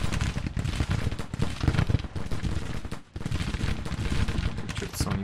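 Massed Civil War brigade rifle fire in the strategy game Grand Tactician, a dense, continuous crackle of musketry volleys that stays loud and rolling with one brief dip in the middle.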